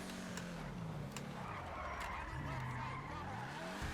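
Grotti GT750 race car in GTA 5 driving with a steady engine drone that rises and falls, tire skids mixed in, loud and continuous throughout.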